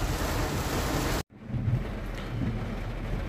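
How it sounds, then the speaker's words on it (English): Heavy rain pours during flash flooding at a homestead, runoff streaming down a driveway like a river; a dense, steady roar of downpour, briefly cut off for an instant, then resuming with low rumbling underneath. "This is the rain that's come down the driveway, making a river here."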